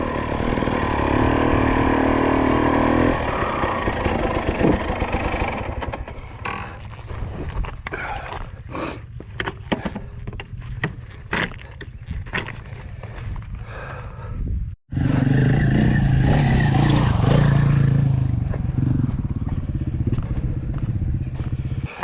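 Two-stroke motorcycle on an off-road adventure ride around the Sea of Galilee, a loud buzzing engine at first, then sputtering, intermittent revs and pops, a brief cutout, and a steady close revving drone again.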